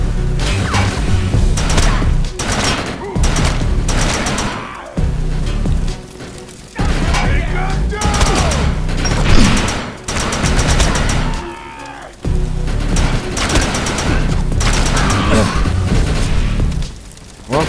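Gunfire from a gun in the video game Defiance, loud bursts of rapid shots separated by short gaps, with booming impacts and layered game effects across the whole stretch.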